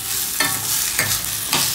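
Onion, dried red chilies and tomatoes frying in a pan, a dense close sizzle with three scraping stirs spaced roughly half a second apart.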